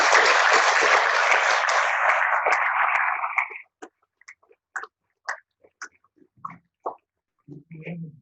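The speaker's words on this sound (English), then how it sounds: "A good round of applause for the students in the panel" At a cyber security panel on oil and gas infrastructure, the audience gives the student panelists a dense round of applause that stops abruptly after a few seconds, followed by scattered short bursts of voices in a now quiet room.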